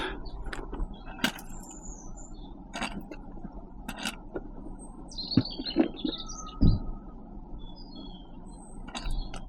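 Small birds chirp and tweet in short scattered calls outdoors while being fed, with light clinking and rustling mixed in over a steady background hum.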